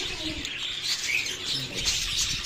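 Budgerigars, including gray green and dilute blue birds, chirp and twitter continuously in a dense, busy flock chorus with no voices.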